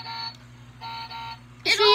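A toy button gives off electronic beeps, a steady high tone in two short bursts followed by a brighter, louder burst, heard close up with a voice speaking alongside.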